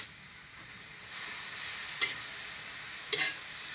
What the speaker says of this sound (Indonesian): kelapa parut ini bersama gulanya. Oke, kita aduk sampai rata.